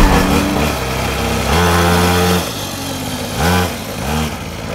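A mini motorbike carrying two riders runs close by, its small high-revving engine buzzing loudly with rising and falling pitch as the throttle changes, dipping briefly before picking up again.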